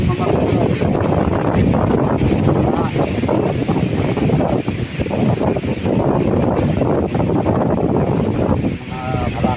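Strong wind buffeting the microphone ahead of Typhoon Uwan during a harvest, a loud continuous roar with gusty swells, and talk mixed in underneath.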